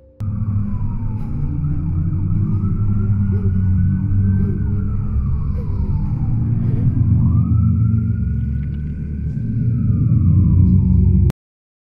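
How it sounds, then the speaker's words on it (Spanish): Police sirens wail steadily with rising and falling tones over a constant traffic rumble, loud and continuous throughout. "mientras se escuchan las sirenas de la policía"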